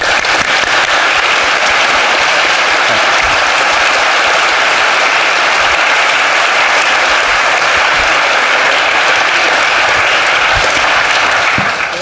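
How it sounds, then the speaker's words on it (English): Sustained applause from a seated literary festival audience, loud and dense, continuing unbroken for about twelve seconds. "I didn't want to stand up before you guys were done clapping"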